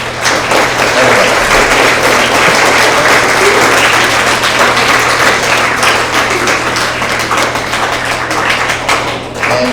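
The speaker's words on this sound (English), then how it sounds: "audience, let's please give everybody here a big applause every time that their name is called." Students and families at a middle school award assembly give loud, continuous applause, a dense wash of clapping that holds steady for several seconds with a low hum underneath.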